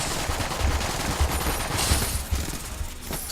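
A wave of bullets fires in the game Enter the Gungeon during a boss fight: rapid, dense gunfire bursts over a low rumbling bed, loud and continuous for a few seconds with no talking.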